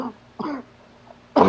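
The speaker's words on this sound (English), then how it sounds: "Who's coughing? That's me. I have bad allergies." Three bursts of coughing from a man with bad allergies, the first short, the second fuller, the last loud and harsh, close to the mic with quiet gaps between.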